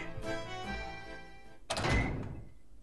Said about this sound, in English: I heard the sound of a door opening as if they went back through Tinkley Tower.